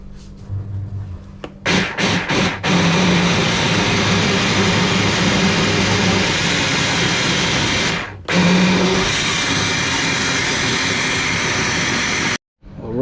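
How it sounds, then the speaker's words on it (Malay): A blender whirs steadily for about ten seconds, mixing fishing bait for pond game fishing with soy milk and tempeh, starting with a few short pulses, briefly cutting out near the middle, then running on loud and continuous. "Jom blender kali ketiga."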